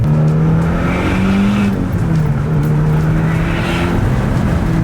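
A Mitsubishi Evo X, tuned for safer air-fuel ratios, pulls hard at full throttle with a loud, sustained engine drone that rises and shifts in pitch as it accelerates, heard close from inside the car.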